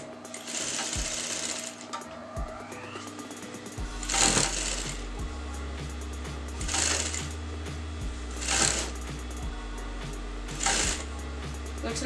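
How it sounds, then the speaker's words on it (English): A sewing machine stitches canvas onto fabric for a kameez neckline, a loud, close, steady mechanical whir. The hum drops in pitch at times, and bright rustling bursts come at intervals as the fabric is handled. "And just fold it once and sew the canvas together."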